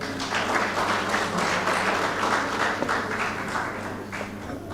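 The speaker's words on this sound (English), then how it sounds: "So let's give Temidayo a round of applause." Sustained applause from a seated audience at a food security stakeholder dialogue in Nigeria, steady dense clapping filling the room for several seconds with no clear talk over it.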